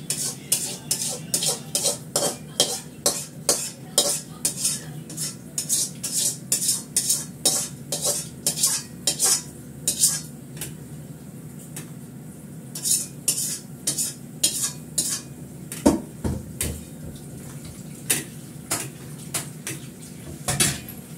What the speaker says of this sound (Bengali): এই কড়াটা মেজে ফেলবো, লোহার কড়াতে পকোড়াটা ভাজবো।